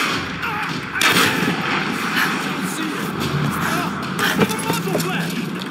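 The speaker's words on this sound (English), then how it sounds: "Who's shooting? Get down!" Gunfire in the Tomb Raider video game, a dense, loud barrage of shots and blasts sustained throughout with voices shouting in the mix.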